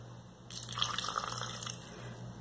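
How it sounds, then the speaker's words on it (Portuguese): A small amount of water is poured into a blender holding plums, a soft, brief splashing pour that starts abruptly and runs for about two seconds in a quiet kitchen. "E um pouquinho de água."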